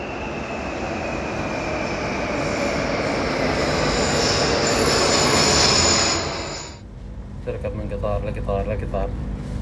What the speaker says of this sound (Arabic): هذا القطار يأخذك من مكان لمكان داخل المطار من كبره ما شاء الله.